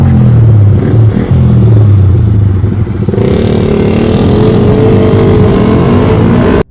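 Roadside traffic streams past close by, with motorbikes and cars droning and revving in a loud, continuous rumble and shifting engine tones and no talk.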